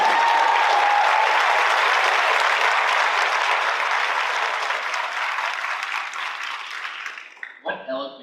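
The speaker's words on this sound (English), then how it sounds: "can we just have another round of applause for these children?" Loud, dense applause from an audience at a Middletown, New Jersey public meeting, honoring children who spoke, sustained for several seconds before fading out into a few voices.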